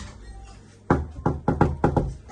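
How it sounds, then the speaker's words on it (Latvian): Knocking on a wooden door: a quiet room, then five or six firm, close knocks in an uneven rhythm, with no voices. "Mēs vismaz pieklauvēsim pie viņa durvīm."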